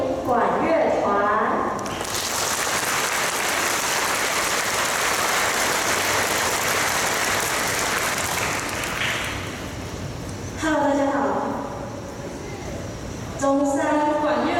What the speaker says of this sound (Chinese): 现在让我们用掌声欢迎管乐团